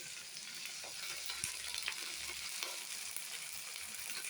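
Fresh greens (keerai) tossed into a hot pan, frying with a steady, close sizzle and crackle that carries on evenly throughout, with a few soft stirring knocks and no voices.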